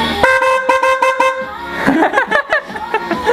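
A horn fitted for a pit bike race honks in a quick series of loud, close toots, followed by people laughing and talking.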